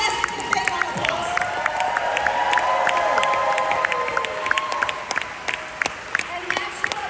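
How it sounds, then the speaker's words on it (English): A convention audience applauds and cheers loudly, with dense rapid clapping and scattered shouts and whoops, sustained and close, filling the hall without any speech over it. "Can we give all the SCP a big round of applause?"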